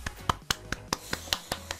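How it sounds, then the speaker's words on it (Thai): Steady hand clapping by one person, nine or so sharp, evenly spaced claps about a fifth of a second apart, close and fairly quiet, with no talking. "ทุกคนปรบมือเลยฮะ"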